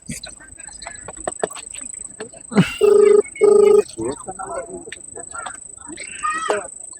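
A telephone rings twice in steady electronic bursts, between stretches of close talking and a continuous high whine.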